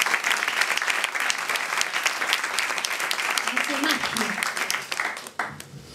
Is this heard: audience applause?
yes